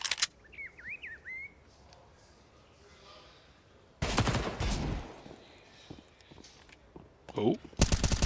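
Sharp bursts of gunfire in a Counter-Strike match, with a loud volley midway and another crack near the end, separated by quieter game ambience that includes chirping birds.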